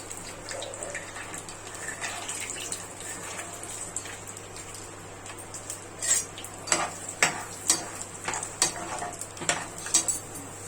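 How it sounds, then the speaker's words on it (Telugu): Peanuts frying in hot oil in a pan as tempering for temple-style tamarind pulihora, a steady crackle and sizzle that turns into louder popping bursts in the second half, close up with no voices. "ఆయిల్ హీట్ అయినాక వేరుశనగ పప్పులు వేసుకుంటున్నాను"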